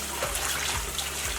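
Cool tap water runs steadily into a bowl to wash collard greens, a continuous close rushing splash with no pauses and no talking.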